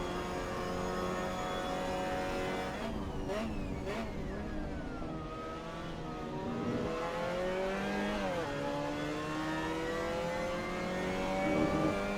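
A Mazda MX5 engine in Assetto Corsa, racing at Hockenheim, drops off the throttle, then accelerates hard with rising revs and quick gear shifts, steady and close throughout.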